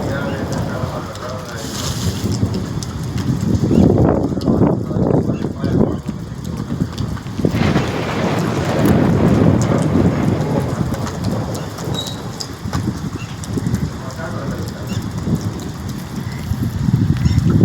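Heavy rain pours at night over a farm field, a steady dense roar that swells and eases throughout, with faint murmuring voices buried underneath.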